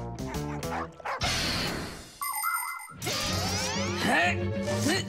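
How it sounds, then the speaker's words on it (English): A cartoon dog barks in short yips and whimpers amid bouncy animated sound effects, a shattering crash and a brief quiet gap, with music and voices around it. "You're a real service dog, no doubt about it."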